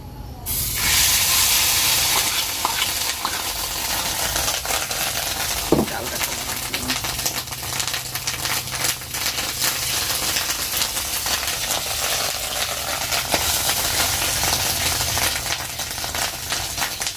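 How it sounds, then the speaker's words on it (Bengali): A loud, sustained sizzle and hiss of turmeric-and-salt-coated fish roe frying in a hot wok, steady throughout with occasional crackles and clinks. "এবারে মাছের ডিমটা আমি ভেজে নেবো"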